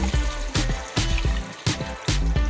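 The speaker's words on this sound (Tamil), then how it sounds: "இந்த ஸ்டேஜில் நம்ம எடுத்து வச்சிருக்கிற 1 லிட்டர் அளவுக்கு பால் சேர்த்துக்கலாங்க." One litre of unboiled milk poured into a pan for a chicken pasta white sauce: a close, continuous liquid flow broken by about five rhythmic glugging surges, with no talking.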